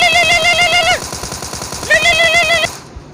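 Rapid automatic gunfire in PUBG Mobile rattles in steady bursts under a high electronic warbling tone, loud and close, ending abruptly.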